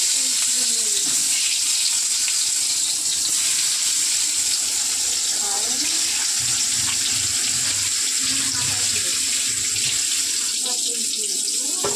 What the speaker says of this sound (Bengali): 3 পিস বেগুন কাটা হয়েছে, ভেজে নিই